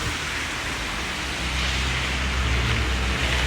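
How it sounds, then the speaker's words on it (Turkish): Steady broadband hiss of rain falling continuously, with a low rumble underneath that grows slightly louder partway through. "Hava da bayağı bir yağmurlu."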